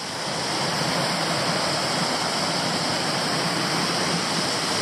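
Weld Angel Falls in Tasmania cascades and then plunges over a drop, making a steady, loud, close roar of rushing water that fills the whole clip without a break; no one speaks.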